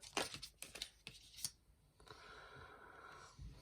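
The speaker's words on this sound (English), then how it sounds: "Right, now let's take off this little paper." Peeling the protective paper off a new iPhone 16 Pro gives a few sharp crinkling tears in quick succession, then a softer, steady papery rustle, all close up with no talking.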